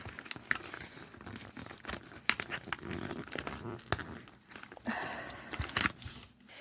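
Plastic packaging crinkles and tears as a Winx Club Lovix Stella doll is pulled free, close and busy with irregular rustles and snaps.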